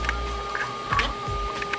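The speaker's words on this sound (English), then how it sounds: "So I'm just gonna print my demo piece." A da Vinci 2.0 3D printer running a print job, with soft whirring stepper-motor tones and small mechanical ticks over a constant low hum, close by.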